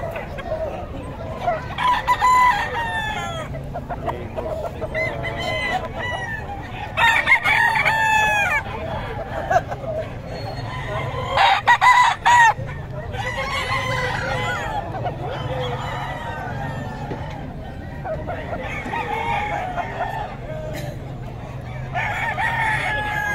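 Chickens, including a rooster that crows several times, brought along as quality fowl. The calls rise clearly above steady clucking and background noise, with people talking faintly in the distance.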